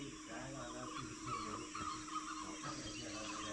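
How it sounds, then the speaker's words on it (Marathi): Birds call at dawn at the base of Rajgad fort, a continuous mix of chirps and fowl-like clucking at moderate distance over a low background hum. "सकाळ झाली आणि पक्ष्यांचा मधुर किलबिलाट कानावर पडला।"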